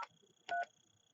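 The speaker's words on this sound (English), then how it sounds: "So we'll dial *17 to do that." Keypad tones dial star 17 on a 4412 telephone voicemail system: one short beep, a pause, then two quick beeps back to back, clear and close over a faint steady line hum.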